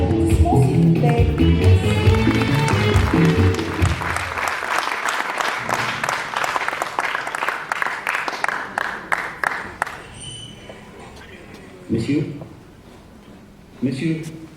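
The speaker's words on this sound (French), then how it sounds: "Sur les applaudissements, s'il vous plaît." A theatre audience applauds at the start of a play, dense clapping rising under music, then thinning into scattered individual claps that fade away, followed by voices speaking on stage.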